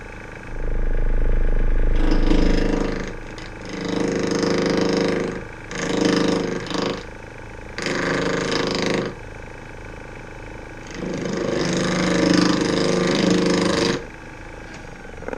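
A wood lathe trues up and cleans the outside of a colored pencil pot, its loud motor roar and cutting noise coming in repeated bursts of several seconds with brief easing between passes.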